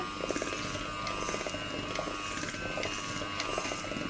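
An electric hand mixer whirs steadily while beating spritz cookie dough in a bowl set on a cloth, a constant mid-level motor drone with faint rattling from the beaters throughout.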